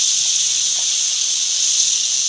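Oil and water sizzle together in a hot wok, giving a loud, even, unbroken hiss that stays close and constant throughout with nothing else heard.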